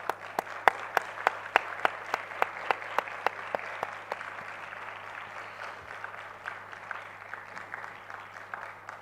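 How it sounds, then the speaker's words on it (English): A conference audience keeps applauding a speaker on stage at a university annual international conference, a steady wash of clapping with sharp individual claps standing out, fading slightly toward the end, with no talk. "so the clap should not stop."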